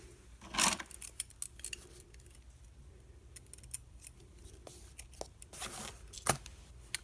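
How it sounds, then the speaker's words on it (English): Scissors snip through a piece of light purple paper in a few quiet, sharp cuts, one clearly near the start and another close to the end, with soft handling sounds between and no talking. "So I am just going to just cut a piece."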